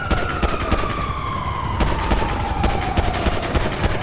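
Rapid bursts of gunfire crackle in GTA V Online as a player shoots at police, with a wailing siren sweeping underneath the dense, close volleys.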